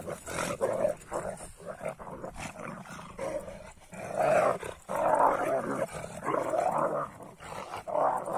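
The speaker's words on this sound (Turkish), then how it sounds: "Sanki boğuşuyor dersiniz arkadaşlar. Dürzü. Hırlayarak oynuyor." A dog growling while playing and tussling in the snow, rough throaty growls coming in uneven bursts at moderate distance, with short pauses between them and no talk.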